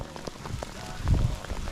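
Rain and graupel patter steadily on surfaces and gear during a rainy mountain hike at First Cliff Walk in the Swiss Alps, a dense continuous hiss with a heavier burst midway.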